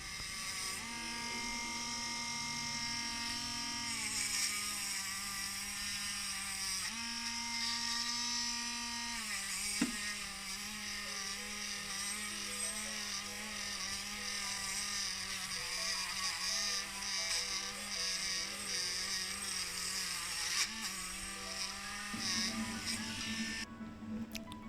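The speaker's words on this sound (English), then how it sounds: "the tack life will get it buffed up and take off the remaining scraps of paint" A Tacklife rotary tool buzzes steadily as it buffs leftover paint off a Corgi Metro model car body, a close, continuous high whine with slight pitch shifts as the load changes.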